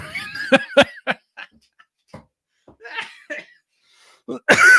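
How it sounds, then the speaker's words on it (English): A person coughs a few times in quick bursts, then stays quiet with faint breaths before a louder final cough, close to the microphone. "You've made me cough."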